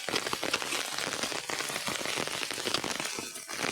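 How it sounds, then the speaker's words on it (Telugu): Rain comes down steadily on a farm field where workers are harvesting, a dense continuous patter of drops close by with no voices. "ఫ్రెండ్స్ చూడండి, వర్షం అయితే వస్తుంది."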